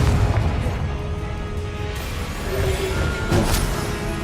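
Confringo fire-blast spell cast in the video game Hogwarts Legacy, a loud, dense, rumbling explosion that roars continuously with a sharper burst near the end, with no voice over it.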